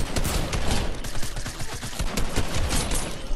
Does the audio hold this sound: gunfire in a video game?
yes